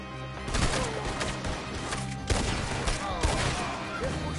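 Video-game gunfire in Red Dead Redemption 2: several sharp, loud gunshots crack in an irregular volley over a busy, noisy scene, with voices faintly audible beneath the shooting.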